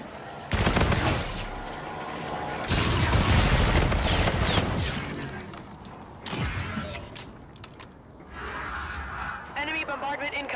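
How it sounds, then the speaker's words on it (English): Explosive bombardment in a video game hits in loud, broadband bursts and rumbling blasts, coming in several waves with brief quieter gaps between them. "Enemy bombardment incoming."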